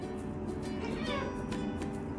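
A pet cat meows in reply to a question about being hungry, a short vocal call close up over steady indoor background noise, with a human voice nearby.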